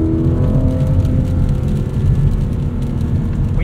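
Porsche 718 Cayman GTS with its 4.0-litre engine and PDK gearbox, a steady close engine drone heard from inside while driving, continuous and even with no voices.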